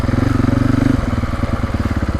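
A 2025 Husqvarna FE450 Heritage Edition dirt bike thumps along close by during an evening ride near a river, its single-cylinder engine pulsing rapidly and steadily, dipping slightly in pitch partway through.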